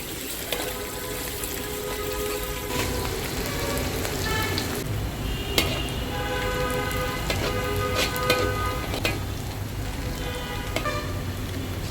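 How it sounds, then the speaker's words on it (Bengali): Chopped onion, garlic and sliced green chillies fry gently in oil with a steady, dense, rain-like sizzle. It is close and constant, with a few sharper crackles and no voices. "সবগুলোকে তেলের সাথে একটু ভাজা ভাজা করে নেব, হালকা একটু ভেজে নেব"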